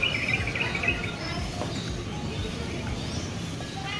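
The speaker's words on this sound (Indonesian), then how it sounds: "kita juga bisa sambil mendengarkan kicauan burung yang dari pepohonan" Birds chirp in trees seen from a hotel balcony at Jepara, with faint, scattered tweets over a steady outdoor hiss and low background rumble.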